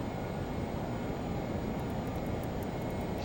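A Learjet descends to land on a gravel runway in Antarctica, its cabin filled with a steady, loud, unbroken roar of engine and airflow and no voices.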